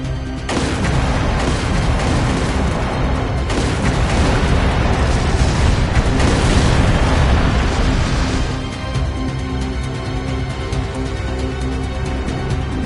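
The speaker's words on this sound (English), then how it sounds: "Confirming source of gunfire." Continuous battle noise in a city from the video game Trails Through Daybreak II, dense booming blasts and crackling fire layered under music, loud and unbroken throughout.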